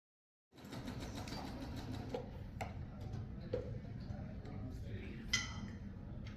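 Rental sewing machines running at a busy sewing expo in Nashville: a fast, continuous ticking whir close by, with occasional sharper clicks and a low hum of room noise and distant voices.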